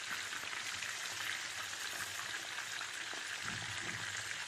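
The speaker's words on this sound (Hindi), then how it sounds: "गोश्त का दूसरा बैच भी हमारा बहुत अच्छे से फ्राई हो रहा है।" Batches of mutton pieces deep-fry for a spicy restaurant-style Mutton 65 with a soft, even hiss of bubbling oil, steady and fairly faint throughout, with no one talking.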